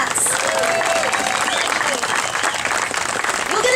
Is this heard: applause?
yes